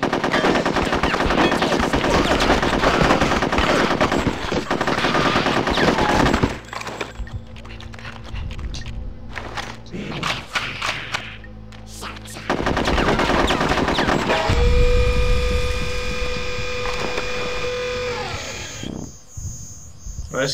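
Sustained automatic gunfire from the video game Conker's Bad Fur Day rattles loudly through long bursts, broken by a quieter stretch of sporadic shots and thunks before heavy firing resumes.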